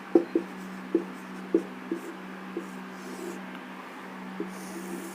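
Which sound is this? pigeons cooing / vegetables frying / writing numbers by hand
writing numbers by hand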